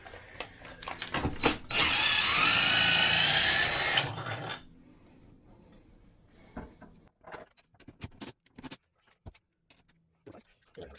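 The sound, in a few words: power drill driving bolts on RV AC unit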